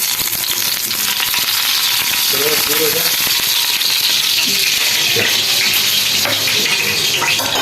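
Oil heats on a hot tawa over a stove, giving a dense, continuous close sizzle with faint crackles and occasional light clinks, steady and loud throughout.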